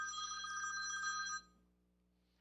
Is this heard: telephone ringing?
yes